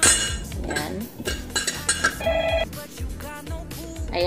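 Metal lid of a pressure cooker clinking and clattering shut with several sharp knocks and scrapes, close by in a kitchen where cow's feet are being boiled, with brief voices nearby.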